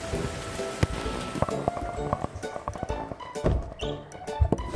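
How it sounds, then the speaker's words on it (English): Heavy summer rain in Denmark pattering against a window, with irregular close drops and taps over a soft steady hiss. "it's raining a lot today"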